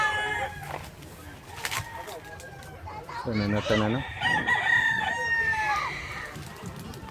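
Chickens clucking around a backyard farm with papaya and moringa trees, and a rooster letting out one loud crow partway through, close by, with someone speaking briefly over the birds.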